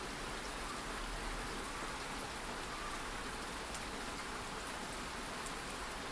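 Steady nighttime rain patters on surfaces, a dense even hiss with scattered droplet ticks, continuous and moderately quiet with no voices.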